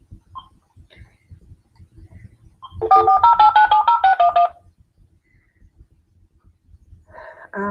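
A telephone number is dialed as a quick run of roughly a dozen DTMF keypad tones, loud and evenly spaced, followed by a brief tone burst at the end, over faint background noise.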